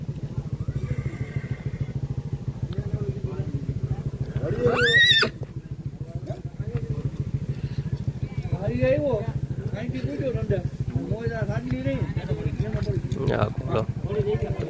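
A mare neighs once in a loud, rising whinny, with other horses kept nearby in a Gujarat village stable, over steady low rumbling background noise and scattered voices.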